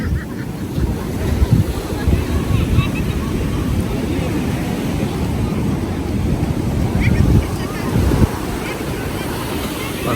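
Ocean surf rolls onto Mypadu beach, a continuous rushing wash with periodic heavier surges, mixed with wind buffeting the microphone and faint voices nearby.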